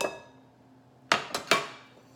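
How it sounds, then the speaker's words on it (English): A spoon strikes the side of a bowl three times while dry muffin ingredients are stirred: almond-type flour with salt, baking powder and xanthan gum. The taps are clinking and close. "Give it a stir real quick"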